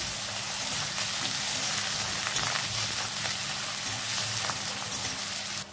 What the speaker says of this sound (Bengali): এবারে মশলাটাকে আমি ভালোভাবে নেড়ে চেড়ে নেব।